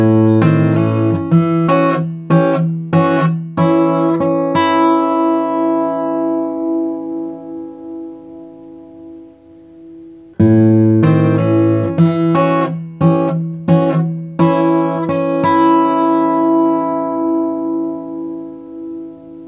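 A fingerpicked acoustic guitar plays a tune in two phrases of rapid plucked notes over a steady bass. Each phrase rings out and decays before the pattern starts again.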